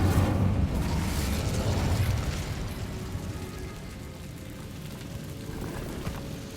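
A Bombarda blasting spell explosion in the video game Hogwarts Legacy inside a mine, a heavy booming burst that rolls into a long rumbling, debris-like decay and then fades to a low hum.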